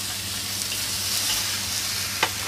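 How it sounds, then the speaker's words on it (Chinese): Abalone, shiitake mushrooms and diced vegetables stir-frying in a wok, a steady close sizzle with faint scraping of the stirring, one brief clack near the end. "再炒一炒佢"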